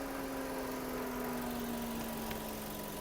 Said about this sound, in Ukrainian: Робота двигуна.